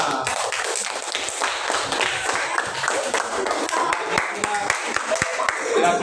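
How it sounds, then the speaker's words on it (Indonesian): A classroom full of people claps in a quick, scattered burst of applause, fairly close, with voices chattering underneath. "Tepuk tangan."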